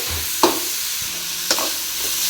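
Carrots sautéing in a pan over a low constant sizzle, with two distinct scraping stirs of a spatula against the metal, close by and without any voices.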